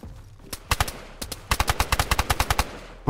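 Rapid bursts of gunfire ring out in a DayZ PvP fight, with a few scattered shots followed by a dense flurry of sharp, loud reports.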